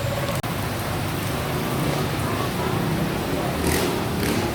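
Steady rain pours down over an open public market in Lalibertad, Negros Oriental, Philippines on a wet morning, a dense continuous hiss with one sharp knock near the start.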